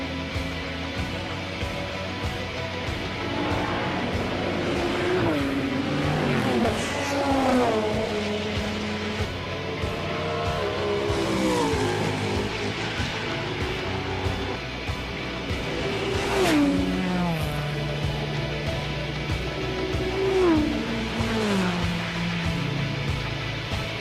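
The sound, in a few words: race cars speeding around the Nürburgring in Gran Turismo video game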